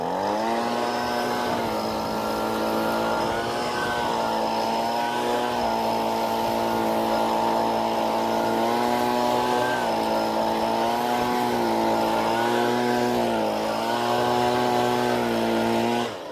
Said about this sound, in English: A 125 blower taking care of business